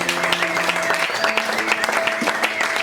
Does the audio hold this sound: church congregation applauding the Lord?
yes